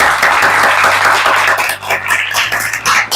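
An audience bursts into brisk, dense applause, with many hands clapping together in a loud, continuous wash that thins slightly near the end.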